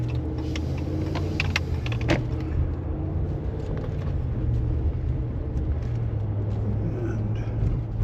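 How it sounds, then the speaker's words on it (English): A car passes in the opposite direction on Route 102A near Bar Harbor, Maine, on a day of light snow, heard from inside a moving vehicle as a rising and fading rumble over the steady low road and engine drone. "Oh, one car coming the other way."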